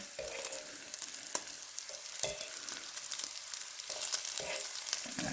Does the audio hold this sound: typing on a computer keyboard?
no